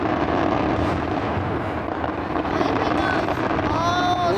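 Fourth of July fireworks rumble and crackle as a dense, continuous roar muffled by wind noise on the microphone, with faint whistling streaks near the end and voices underneath.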